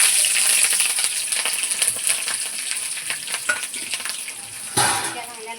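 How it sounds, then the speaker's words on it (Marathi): Green chillies crackle and sizzle loudly in hot oil, tempering for a shev murmura chivda. The frying hiss is steady, with occasional stirring scrapes and light utensil clinks and a brief louder burst near the end. "हे बघा, मी फोडणीसाठी मिरच्या टाकते"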